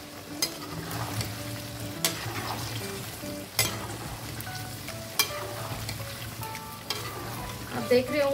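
Lasoda (gunda) fruit cooks in a pot for pickle, a constant close frying hiss punctuated every second or so by sharp spoon knocks and scrapes against the pot.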